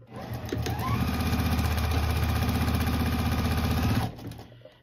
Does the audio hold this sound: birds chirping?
no